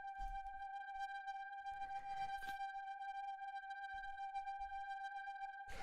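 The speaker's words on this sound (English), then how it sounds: "The next sound that we have here is the second drone, which sounds like this" A second ambient synth drone holds a steady tonal note, quiet and sustained, with faint noisy rustles and low thumps drifting in around it.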